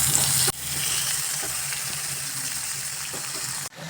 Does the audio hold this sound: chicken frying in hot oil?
yes